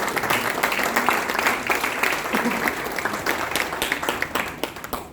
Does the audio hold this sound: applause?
yes